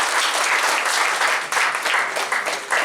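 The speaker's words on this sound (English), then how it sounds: "Please give a big round of applause to our VP" Audience applause for a vice president at a university inaugural ceremony: steady, dense clapping from a large hall that is loud and continuous, with faint pulses in the clapping and no speech over it.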